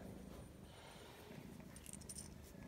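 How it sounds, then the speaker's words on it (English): A very quiet, close-up low purring rumble from a small kitten, continuous and soft, with a faint light jingle partway through. "You can hear his little purr box."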